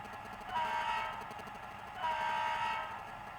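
A model railway locomotive fitted with a sound decoder runs smoothly, giving a steady mechanical hum with two sustained horn-like tones, each lasting under a second, moderately loud and heard alone.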